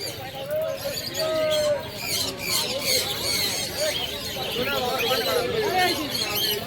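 Pigeons coo and flutter at a busy Birnagar bird market, with patta and giribaz pigeons among the stalls, the calls steady throughout under constant crowd chatter.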